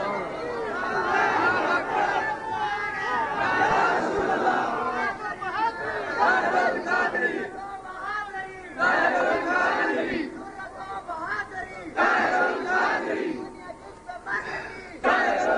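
A dense crowd at a religious gathering about Sufi saints raises loud shouted slogans in waves, the overlapping voices surging and dipping steadily for about fifteen seconds.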